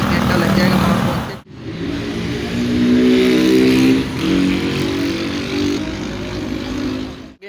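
Steady engine roar of a fast-moving bus on a highway, a continuous close rumble with shifting tones, and voices talking over it.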